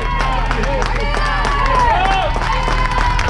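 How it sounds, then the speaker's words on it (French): Volunteers at the finish line of a running race cheer and clap for arriving runners, a steady crowd roar with scattered claps and voices throughout. "les acclamations, les applaudissements de l'ensemble des bénévoles"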